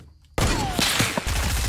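Hunting rifle fire in the video game Fortnite: a loud, dense burst of gunshots erupts after a brief quiet moment and keeps going with sharp repeated cracks and booms.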